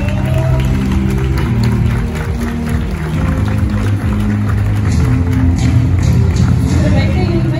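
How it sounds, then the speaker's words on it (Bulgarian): A large audience at the Code Fashion Awards 2021 applauds continuously in a steady, dense wash of clapping that welcomes a presenter, mixed with crowd murmur and a low musical hum throughout. "Моля, посрещнете с аплодисменти"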